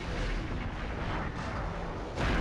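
A plasma cannon fires in the Future Cop: LAPD video game amid a dense rumbling roar of heavy blasts, loud and continuous, with another bright burst near the end.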